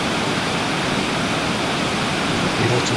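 Water cascading down the overspill weirs of a reservoir, a continuous full rushing roar with no break, close and loud.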